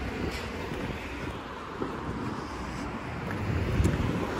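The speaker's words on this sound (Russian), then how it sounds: "Ага, прохладненько, ветер" Cold outdoor wind buffets the microphone with a steady, loud rushing roar and low-frequency rumble, continuous throughout with no speech.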